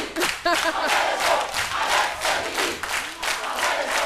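A lively television studio audience on a midday talk show cheers and chants in rhythmic waves, loud and continuous, with shouted voices rising over steady clapping.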